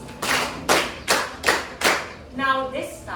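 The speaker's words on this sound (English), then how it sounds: "Can we give ourselves again 5 claps?" A classroom of students claps five times in a steady rhythm, each clap a broad, close burst, followed by a brief voiced cheer or response.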